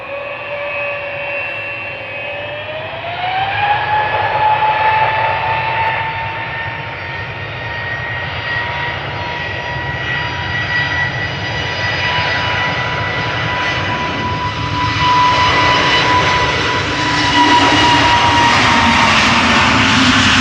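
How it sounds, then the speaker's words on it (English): SAS Airbus A320neo jet lining up for departure on the Polderbaan at Amsterdam Schiphol, its engines giving a steady whine with a tone that rises and then holds, swelling louder toward the end, with no talk over it. "lining up right now, SAS A320neo going to Oslo"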